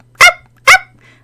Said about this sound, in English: barking came down the road.